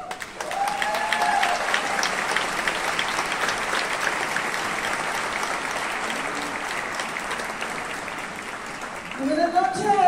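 Audience applause for a singer, backed by a trio at a live concert, a steady broadband wash of many hands clapping for ten seconds, with brief voices and a vocal-like tone at the start and end.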